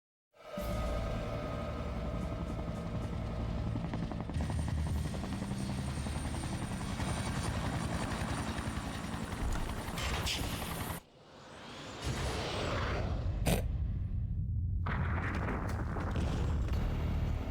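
Helicopter in the video game Resident Evil 2: a loud, steady rotor drone that runs nearly unbroken for about eleven seconds, cuts away briefly into a sharp crash, then returns as heavy rumbling to the end.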